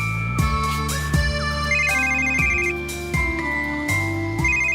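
A phone ringtone plays a repeating melodic electronic tune in steady cycles, loud and close, with no talking over it.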